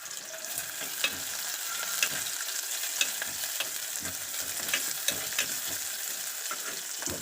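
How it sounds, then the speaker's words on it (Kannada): Onions frying in a pan for a simple masala avarekalu curry, a steady close sizzle with light stirring clicks at regular intervals, no voices. "ಈರುಳ್ಳಿ ಹಾಕ್ತಾ ಇದ್ದೀನಿ ಈರುಳ್ಳಿ ಸ್ವಲ್ಪ ಫ್ರೈ ಮಾಡಬೇಕು"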